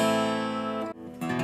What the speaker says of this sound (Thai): ปิกจะทำให้เกิดเสียงกรีดสายนะครับ ก็คือเวลาเล่นจะทำให้เกิดเสียงนี้